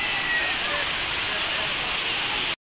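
Tippi waterfall roars in a dense, steady rush of falling water, loud and continuous until it cuts off abruptly near the end, with faint voices from a crowd of visitors mixed in.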